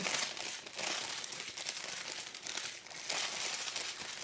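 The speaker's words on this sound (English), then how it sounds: "Got a whole bunch of crinkling." Loud, continuous crinkling of plastic LEGO parts bags fills the whole stretch, surging in waves as the bags are rummaged and squeezed close by.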